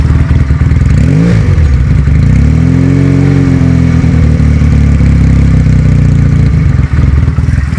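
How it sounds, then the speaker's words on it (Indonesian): A 2019 Benelli Patagonian Eagle 250 carburetor motorcycle engine revs up, its pitch sweeping upward then holding high and steady, loud and close with no voices. "Kalau suara lagi digas,"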